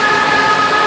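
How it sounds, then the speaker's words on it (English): Saudi Arabia's high-speed train rushes past, loud and close, with a dense, steady roar and faint tonal whine throughout. "Saudi's answer to the bullet train"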